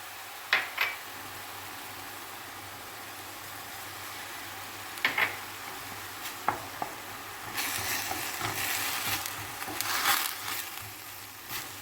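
Tomato paste sautéing in a pot while soup is being made, with a steady low sizzle, scattered sharp knocks of a utensil against the pot, and a louder scraping stir near the end.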